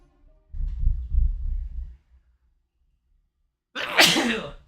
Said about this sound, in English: I need a sneeze, but this is a bad time.